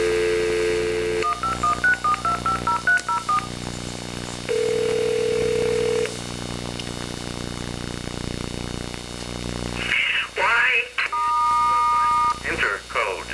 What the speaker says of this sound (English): You press auto dial.